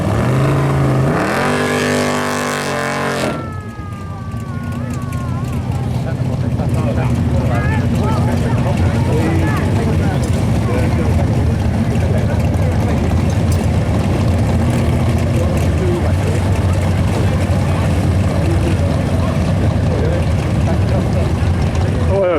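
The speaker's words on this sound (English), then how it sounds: "nitrous fed Chevy Nova." A nitrous-fed Chevy Nova launches at a no-prep drag race at North Weald, a loud engine roar building after a brief idle and sustaining as the car runs, with a commentator talking over it.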